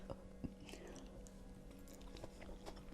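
Soft, close chewing and small bites of Amritsari paneer bhurji made with onions, faint and steady with quiet mouth sounds throughout.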